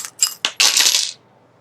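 Small metal charms for a tarot-style reading clatter and jingle as they are shuffled in a few quick, bright bursts, close and loud, then stop.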